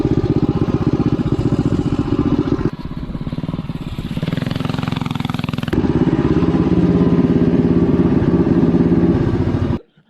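A minibike engine runs steadily at riding speed on the way back to the garage, loud and close, with a dip in tone midway before it settles again and cuts off abruptly at the end.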